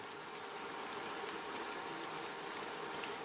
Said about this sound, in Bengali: এবার এর মধ্যে একটু গরম জল অ্যাড করে দেব।